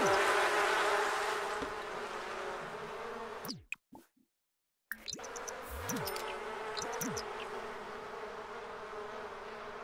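Bees buzz in The Sims 4 in a dense, steady hum, broken by a brief silent gap, with a few faint clicks and knocks around it.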